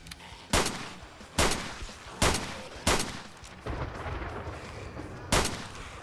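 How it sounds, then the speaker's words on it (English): Gunfire aimed at wood in the survival video game 7 Days to Die, five loud single shots spaced about a second apart, each with a booming tail, over a constant background hum and no speech. "Don't want to do too much shooting at the wood."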